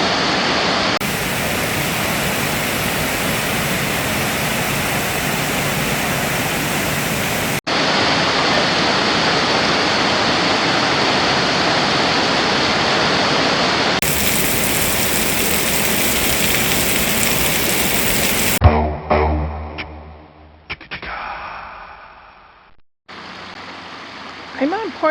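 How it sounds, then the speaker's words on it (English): Rainbow Falls pouring down beside a park trail, a loud, unbroken roar of falling water that cuts out abruptly near the end, leaving quieter rustling and handling noise. "And there's the waterfalls and the Rainbow Falls coming down here."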